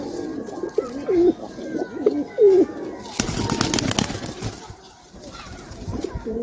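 Pigeons coo in a few soft, rolling phrases, followed by a burst of wing flapping as a female Madrasi pigeon is let go, with more cooing and movement continuing close by.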